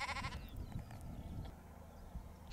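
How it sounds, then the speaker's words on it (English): A sheep in a field gives a short bleat at the start, followed by quiet outdoor ambience and faint rustling. "We are very, very close to these sheep."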